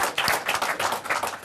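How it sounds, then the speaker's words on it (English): Audience applause breaks out at an annual meeting, a brisk, dense patter of many hands clapping at close range for just over a second, with no one speaking over it. "Anything for cheap applause."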